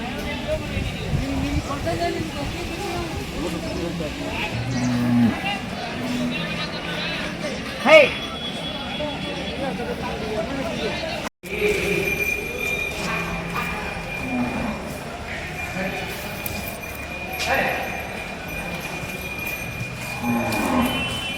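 Amaravati-breed bulls lowing now and then amid a busy outdoor cattle market crowd in Ranebennur, with voices chattering throughout and a brief loud moo standing out near the middle.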